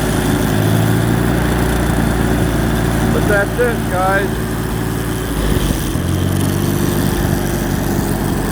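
A 1955 WD45 tractor engine runs steadily at about half throttle, a loud continuous low rumble with a slight dip near the end, while someone speaks briefly over it.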